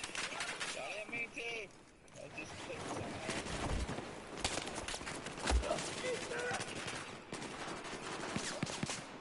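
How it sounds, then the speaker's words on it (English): Gunfire in Battlefield 4 zombies mode: bursts of rapid automatic shots and scattered single cracks at moderate distance, heard under people talking over game chat. "Oh, they're shooting at us!"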